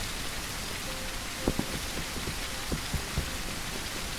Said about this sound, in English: Raining quite a bit now.